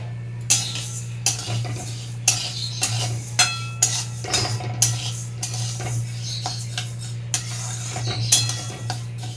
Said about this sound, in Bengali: মুগের ডালটা হালকা করে ভেজে নেব।